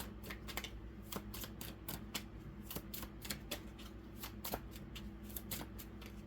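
Tarot cards shuffling close up, a steady run of crisp riffling flicks and light papery snaps repeating across the whole stretch with no talk.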